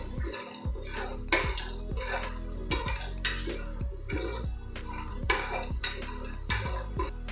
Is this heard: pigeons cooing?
no